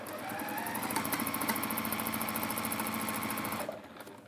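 A sewing machine running in a steady fast rhythm with a repeated clicking from a bobbin that is not seated right, running for a few seconds and then stopping.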